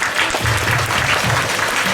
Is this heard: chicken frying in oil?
no